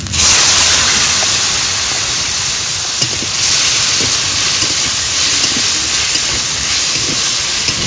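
Chili paste sizzling loudly in hot oil in a pan, a dense steady frying hiss that fills the whole clip with small crackles throughout, close up and without any talk.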